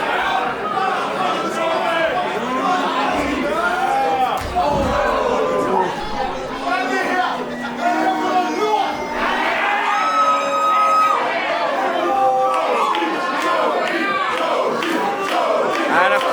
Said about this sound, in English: this crowd getting right behind Toby Zane